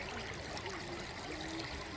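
River water runs steadily past a bathing ghat on a breezy day, a continuous close trickling stream with a faint low hum underneath and no talking.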